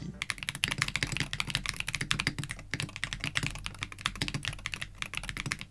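Fast, steady typing on a Tofu 60 custom keyboard with an aluminum case produces dense, close clacking keystrokes that run continuously with no talking.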